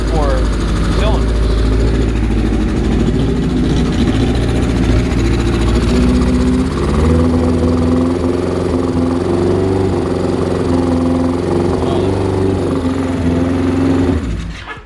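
A small four-cylinder engine runs roughly after a fuel screw adjustment, a loud, close, uneven idle with wavering pitch and a lumpy throb throughout, under spoken talk, cutting off at the end.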